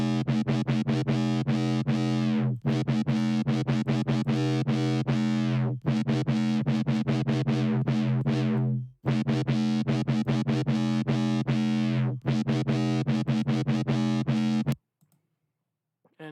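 Heavily compressed, distorted dubstep FM wub bass processed with OTT multiband compression wobbles in long continuous bursts with brief gaps, loud and dense, ending abruptly in near silence.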